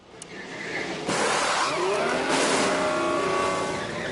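A Ferrari Formula 1 car entering the pits at COTA in the F1 Manager 24 video game on PS5: an engine note rising into a loud, sustained whine close by, with a sharp transient at the start of the roar.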